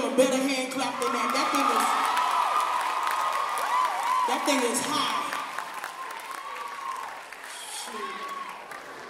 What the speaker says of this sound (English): Better hand clap than that.